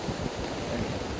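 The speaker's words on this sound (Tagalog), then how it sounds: "Super laki na ng alon" Large ocean waves and strong wind during a typhoon at Ilihan make a dense, steady roar of surf and gusting air, close and constant through the short moment, with no talking.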